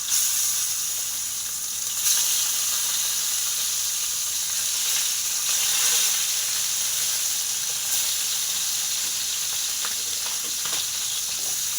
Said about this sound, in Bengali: এক পাশে ঢেঁড়স হয়ে যাবে এক পাশে মাছটা হয়ে যাবে তো চলুন এগুলো ভাজা হোক